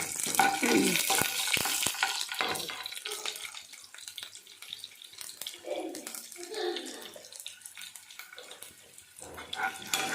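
Garlic sizzling and frying in a pan, with bursts of crackle and stirring scrapes running throughout and a few brief voice-like sounds between.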